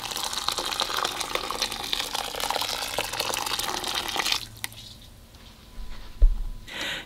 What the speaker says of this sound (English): then we're gonna add in some hot boiling water.